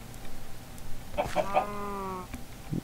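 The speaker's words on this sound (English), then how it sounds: "Chicken, chicken, come on, chicken." Minecraft chickens cluck in a short burst of three or four quick clucks mid-clip, fairly faint over a quiet background.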